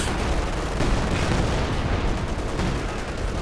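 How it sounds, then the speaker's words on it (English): A sector artillery barrage in Company of Heroes 2: a dense, continuous wash of rumbling shell impacts and booms, loud and unbroken, with no talk over it. "Got another sector artillery coming in for Alastor"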